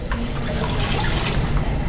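Wet classifying of gravel for gold panning, with rocks and water shaken together in a classifier held down in water. A continuous close splashing and sloshing wash runs throughout, with no one talking.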